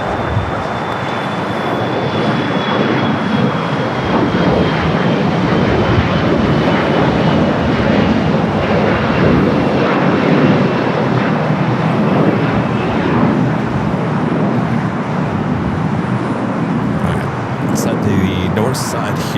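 Austrian Airlines jet taxiing toward the gates at Los Angeles International Airport, a loud continuous broadband engine roar with a faint high whine, steady throughout with no clear speech.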